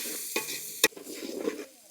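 Tomatoes, onions, ginger paste and spice powders fry in a pan for chicken curry while cooking outdoors on a hilltop, giving a crackling sizzle broken by sharp clinks and scrapes of a stirring spoon.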